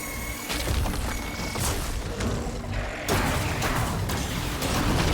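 Explosions and heavy combat blasts in Horizon Forbidden West: Burning Shores, loud dense booms and crashing bursts that fill the whole stretch, with a sharp new hit about midway.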